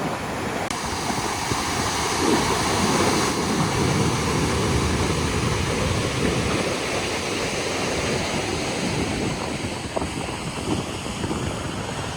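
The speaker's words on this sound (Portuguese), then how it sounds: "Tamanho essa cachoeira." Cascada El Mac, a waterfall beside the Carretera Austral in Chile, gives a loud, constant roar of rushing water mixed with buffeting wind on the microphone, steady throughout with no voices.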